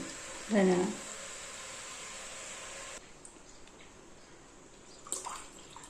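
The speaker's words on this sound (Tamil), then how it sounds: "இந்த டைமில் நம்ம தண்ணி அளந்து ஊற்றிக்கலாம்." Water pours steadily into a pot for a few seconds while making vegetable biryani, then stops, leaving quiet room noise and a brief clatter.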